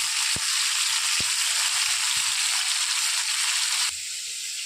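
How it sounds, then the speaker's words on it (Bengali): Lote fish (Bombay duck) fries in hot oil in small batches, giving a loud, continuous sizzle with a few sharp pops. The sizzle drops to a softer level near the end. "এমন করে সমস্ত মাছগুলো আমি ভেজে নেব অল্প অল্প করে"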